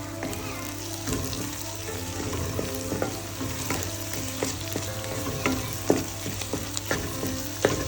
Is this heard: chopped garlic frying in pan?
yes